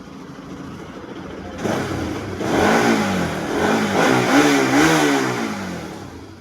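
A Kawasaki RS200 fuel-injected motorcycle engine idles steadily, then revs up in several rising and falling bursts, loud and close with no talk.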